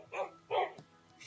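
Two short barks from a dog in a dog-themed video game, sharp and fairly close, separated by a brief pause, followed by fainter game sounds.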